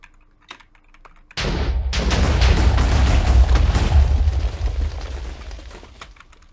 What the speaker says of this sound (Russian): Так, вот это все нафиг взрываем.